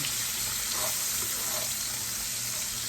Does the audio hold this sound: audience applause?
no